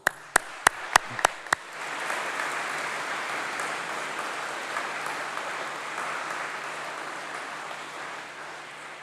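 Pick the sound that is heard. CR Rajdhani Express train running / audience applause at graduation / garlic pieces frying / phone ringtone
audience applause at graduation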